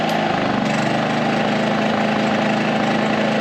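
A Firman 3200W dual fuel inverter generator runs on propane with a loud, steady, close engine drone and a constant low hum, and no one speaks over it.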